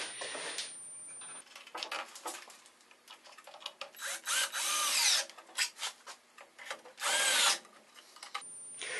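Screws are driven into wood with a power drill while building picture frames, with several short close bursts of whirring and grinding, separated by quieter rustling and handling sounds, no talk.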